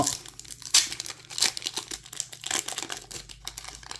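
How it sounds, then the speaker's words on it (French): A Magic: The Gathering booster pack from The Brothers' War being torn open up close, with crisp crinkling and ripping foil bursts in an irregular rhythm. "on va s'ouvrir ce premier booster"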